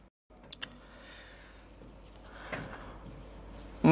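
Marker or chalk scratching across a classroom board as a sentence is written, soft steady strokes with a couple of sharper taps, heard fairly close and alone.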